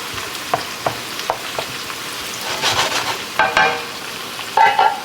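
Chopped green onions sizzle steadily in a hot pan as they cook down, with a broad frying hiss punctuated by sharp clicks and scrapes of a utensil stirring, growing louder near the end.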